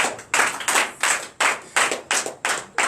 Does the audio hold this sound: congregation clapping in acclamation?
yes